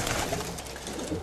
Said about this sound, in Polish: Jest tutaj wiele pozamykanych jeszcze gołębi oryginalnych.